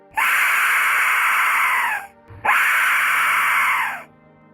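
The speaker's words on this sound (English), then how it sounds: "This is the voice of the Aztec death whistle." Two long, piercing, shrieking blasts of an Aztec death whistle, each about two seconds, loud and harsh with a short gap between them.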